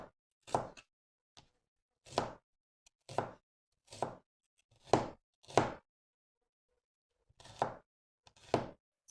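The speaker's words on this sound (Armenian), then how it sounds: "այդպես էլ մանրացրեք սոխը" A knife chops red onion on a board for Georgian chakhokhbili, eight distinct close thunks falling at uneven intervals with short silent gaps between them.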